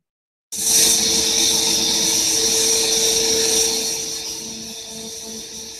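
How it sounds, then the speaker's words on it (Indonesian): Long-hole rock drilling rig working underground in a mine, heard from a played recording: a loud continuous grinding roar with hissing air and a steady tonal whine, sustained throughout and tapering slightly toward the end. "ini adalah salah satu pemboran long hole-nya."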